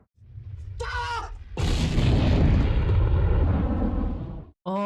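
A loud, sustained torpedo explosion from the submarine film Das Boot, a long rumbling boom that lasts several seconds, preceded by a brief voice.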